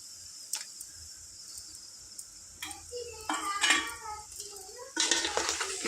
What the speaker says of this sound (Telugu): ఇలా వేసుకొని ఒక 1 మినిట్ ఇలా కలుపుకుందాం